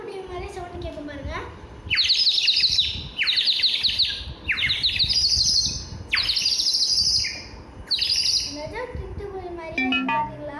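A clay sparrow whistle filled with water warbles in bursts of bright, bubbly chirping, five or six spaced trills that each run about a second, loud and near, with a voice speaking briefly at the start and end.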